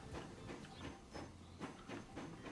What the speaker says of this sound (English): We'll ride along with this train.